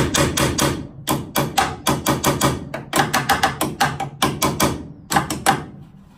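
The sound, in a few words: hammer tapping a pin in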